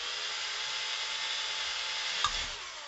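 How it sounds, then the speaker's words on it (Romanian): A power drill slowly boring through a stopper, giving a steady, even whine held at constant speed, fairly faint and close, with a small knock near the end and no speech. "venim cu mașina de găurit deasupra. Foarte încet, foarte încet. Căutăm să străpungem dopul."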